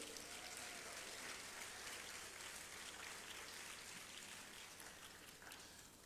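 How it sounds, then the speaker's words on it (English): Audience applause at a Ghana event welcoming African diaspora citizens, a steady wash of many hands clapping at a distance, faint and continuous, fading slightly toward the end with no voices. "Ladies and gentlemen, shall we do a big round of applause?"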